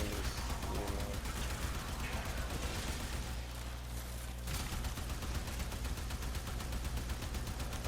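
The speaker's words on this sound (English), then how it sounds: "I'm just shooting wildly" Rapid, continuous gunfire in a video game, a dense stream of shots blasted wildly for several seconds with explosive bursts mixed in, loud and relentless.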